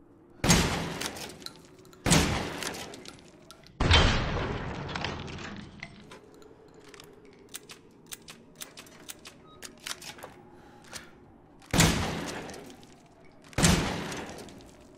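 An upgraded weapon fitted with a foregrip fires in Resident Evil Village, five loud separate gunshots spaced a couple of seconds apart, each with a decaying echo, and faint clicks and handling sounds between them.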